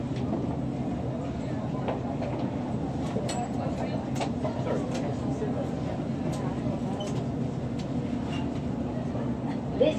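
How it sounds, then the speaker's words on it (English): A London Underground Hammersmith & City line train at Baker Street: a steady low rumble from inside the carriage, broken by scattered clicks and rattles, moderately loud and continuous. "This is a Hammersmith and City Line train to Barking"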